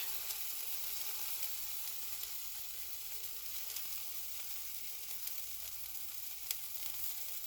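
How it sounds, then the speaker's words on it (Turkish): Chicken cooks over slow wood embers with a soft, steady sizzle and faint crackling, quiet and continuous throughout with an occasional small pop. "Kısık közde, odun közünde yavaş yavaş pişirdik."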